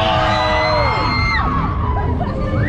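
Crowd at a Luna Park funfair ride in Saint-Pierre-la-Mer yelling and cheering loudly and continuously, with whoops and children's shouts mixed through the din.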